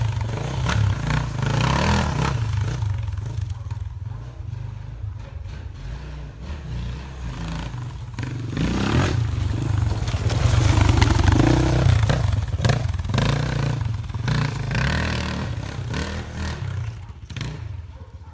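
A street motorcycle engine revving while riding, with a steady loud engine drone that swells and eases in waves, alongside clattering and wind noise.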